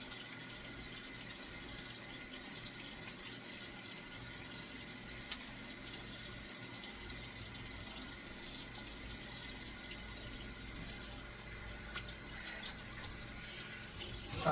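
Steady hiss of cold water running from a bathroom tap into a sink during face rinsing, continuous and close, with a brief shift in tone near the end.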